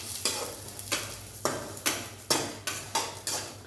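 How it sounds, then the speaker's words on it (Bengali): Vermicelli frying in ghee in a pan: a spatula scrapes and stirs in a steady rhythm, about every half second, over a constant close sizzle. "সিমাইটা দিয়ে দিচ্ছি। আমি ঘি দিয়ে ভেজে নিচ্ছি।"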